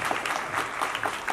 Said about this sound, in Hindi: तो पहले तो आशीष शेलार जी के जन्मदिन के लिए जोरदार तालियां आपकी तरफ से, बधाई।